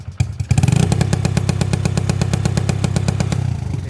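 Honda Wave 100 carburetor motorcycle engine with an aftermarket rev-limiter ignition box, revving hard and loud against the cutoff, producing a rapid, evenly stuttering bang-bang pattern throughout with no talking.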